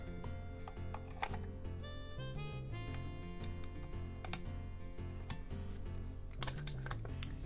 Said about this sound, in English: let's put in the battery